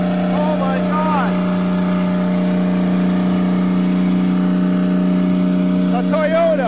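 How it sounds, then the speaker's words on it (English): A Toyota car engine, left standing for seven years, drones at a steady high rev with its throttle stuck open, loud and continuous throughout, while excited voices shout over it. "The Toyota is amazing! The throttle stuck."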